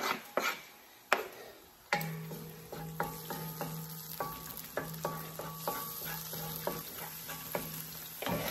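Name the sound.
sautéing onions for Filipino pancit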